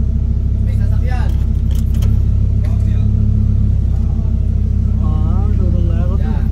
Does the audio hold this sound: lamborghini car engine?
yes